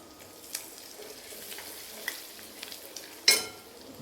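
Masala and green chillies frying in oil in a pan make a soft, continuous sizzle, close but fairly quiet, broken by a few light clicks and one sharper scrape of a utensil near the end, with no speech.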